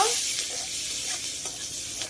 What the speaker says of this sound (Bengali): পেঁয়াজ একটু ভেজে নিব।